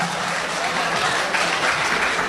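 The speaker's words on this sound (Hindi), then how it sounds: "जोरदार तालियां होनी चाहिए इस शेर पर" An audience at a humorous Urdu poetry recital bursts into loud, dense applause, a continuous wash of clapping throughout, with voices faintly mixed in.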